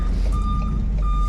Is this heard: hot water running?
no